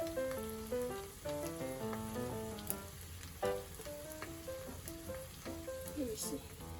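A flour okonomiyaki fries in a pan, giving a soft, continuous crackling sizzle heard beneath melodic background music.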